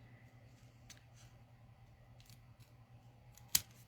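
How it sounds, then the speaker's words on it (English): Small scissors snip once, a short sharp cut near the end following a few faint clicks over quiet room hum. "Let me use the smaller scissors."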